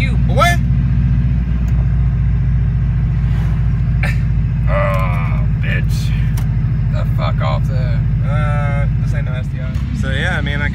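Turbocharged car engine with a boost leak, a loud close continuous rumble that rises and falls as it revs, with voices talking over it.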